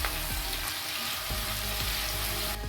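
Chopped onions fry in a pan over high heat with a dense, continuous sizzle, a few soft stirring scrapes surfacing now and then.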